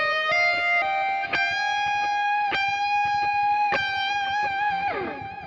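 Sustained distorted electric guitar lead from a song, played slowly with bent, held notes and vibrato, ending in a falling slide; loud and alone, with no talking.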